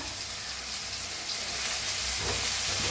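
Onion, asafoetida and curry leaves frying in hot oil for a Marathi ridge gourd (dodka) curry, a steady, close, dense sizzle that holds evenly throughout with no talking.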